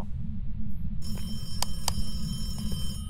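A telephone rings in the Phasmophobia horror game at a high school, with tonal ringing starting partway in and a few sharp clicks over a constant low rumbling background.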